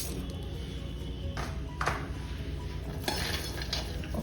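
A spoonful of raw cumin seeds tipped into a pan already holding other ingredients gives a few soft clinks and taps of metal on metal, clustered near the middle and end, over a steady low hiss.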